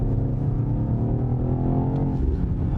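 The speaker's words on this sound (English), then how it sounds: "With a bit more pedal, you get a nice engine note too." Engine note of a BMW XM, a 2.7-ton hybrid super SUV in M mode, under added throttle: a steady, loud, close rumbling drone with layered harmonics that rise slightly in pitch, with no talking.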